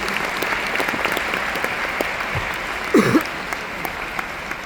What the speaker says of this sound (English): Also a big applause for Jolie, and of course for David